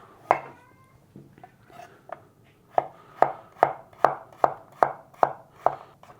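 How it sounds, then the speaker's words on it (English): A knife finely chops fresh ginger on a cutting board, a fast steady run of close, crisp taps after a few scattered first cuts. "Now we're just gonna finely chop it down and put it in with the onions"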